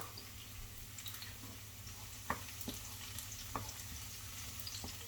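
Garlic fries in a pan until brown, a faint steady sizzle with occasional small pops and clicks, quiet and close.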